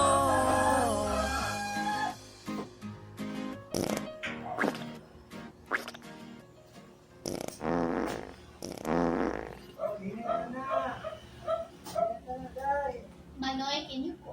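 Comic fart sound effects pop up repeatedly in a Bisaya novelty song, short raspy bursts scattered among sung vocals and playful backing sounds, some loud and close, others brief.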